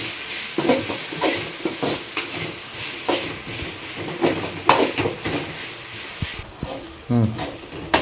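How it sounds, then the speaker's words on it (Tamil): Chicken sautéing with onion, ginger garlic paste and curry leaves in a pan, a steady sizzle broken by stirring scrapes and clatters, with someone speaking over it. "பச்சை வாசனை போகிற வரைக்கும் வதக்கலாம் வதக்கிக்கலாம்"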